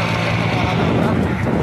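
An LML scooter engine runs close up with a dense, rough, buzzing drone, steady and loud throughout the short moment.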